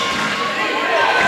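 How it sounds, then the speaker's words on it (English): A basketball crowd swells into a loud, steady roar for the Warriors during the final seconds of a one-point college game between Wabash Valley and Olney Central, a continuous wash of noise with no break. "Crowd getting loud here for the Warriors."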